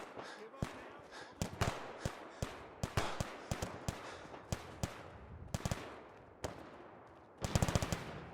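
Rifle fire in Fallout 4 during a raider fight at the Concord Museum, with single shots fired one at a time in an uneven rhythm. A rapid burst of several shots closes the sequence.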